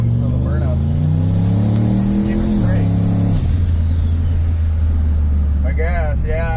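Turbocharged farm truck doing a smoky burnout, its engine revving high then dropping, followed by a steady low rumble with a turbo whistle above; voices talk over it.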